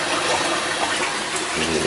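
Water pours steadily into the tank of a baby formula machine, a close, continuous rushing gush lasting a couple of seconds at moderate volume.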